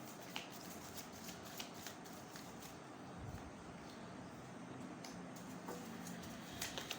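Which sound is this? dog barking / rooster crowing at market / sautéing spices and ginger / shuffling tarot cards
shuffling tarot cards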